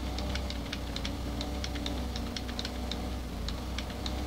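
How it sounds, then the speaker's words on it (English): Steady typing on a computer keyboard during a Farming Simulator 15 session, with quiet, regular clicks running throughout over a constant low hum. "Make all the noise with my keyboard."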